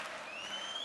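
Darts crowd at an Austrian open tournament applauding, a steady dense wash of clapping and crowd noise held at moderate level throughout.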